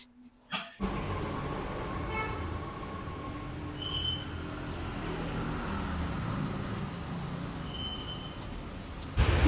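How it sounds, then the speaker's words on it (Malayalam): Steady outdoor traffic roar with wind buffeting, as vehicles pass along a road; a continuous broadband rumble with a few faint tonal whines, captured on a handheld phone and heard alone without speech. "അത്യാവശ്യം നല്ല കാറ്റും അതുപോലെ വണ്ടികളൊക്കെ പോകുന്ന ഒരു ഏരിയയിൽ തന്നെയാണ് ഇപ്പൊ ഞാൻ നിൽക്കുന്നത്"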